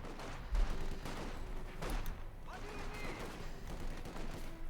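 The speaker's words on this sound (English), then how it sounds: "Hosing them down there with the MP40s, the Schmeisers." MP40 submachine gun fire from Stormtroopers in the WWII strategy game Company of Heroes 2, a steady wash of battle noise with sharp bursts under ongoing combat ambience, moderately distant.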